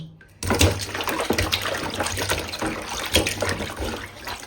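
Water splashes and sloshes close by as fish is rinsed by hand, a continuous wet churning with irregular surges that starts suddenly and carries on without pause.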